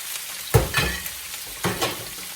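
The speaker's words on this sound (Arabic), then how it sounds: "كنديرو الفلفله غير الزيت هذا، نديرو الفلفله خضراء حمراء صفراء" Green, red and yellow bell peppers fry in hot oil for seafood paella, a steady close sizzle broken by a few louder stirring scrapes and splashes in the pan.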